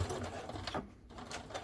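A sewing machine stitches a simple wallet in a quick continuous whir of needle strokes, close and moderately quiet, with a short pause midway.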